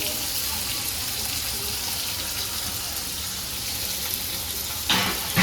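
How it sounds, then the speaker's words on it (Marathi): Onion dropped into hot oil with browned garlic for a jackfruit vegetable dish, crackling in a loud, dense, continuous sizzle with a sharp clatter toward the end. "तर त्याच्यात कांदा टाकतोय."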